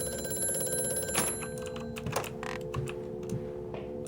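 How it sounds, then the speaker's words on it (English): A telephone rings inside the horror game Amnesia: A Machine for Pigs, sounding as a few sharp, repeated bell-like bursts over a steady humming, droning backdrop. "Answer the f***ing phone."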